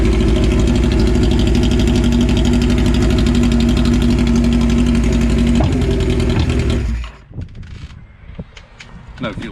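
Carbureted Suzuki GS motorcycle engine running on fuel left in the carbs with no tank fitted: a loud, close, steady idle with a rhythmic low pulse that cuts out abruptly near the end, leaving quieter handling noises.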